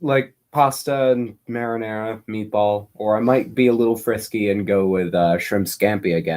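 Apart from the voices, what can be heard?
None of the usual background noises is heard.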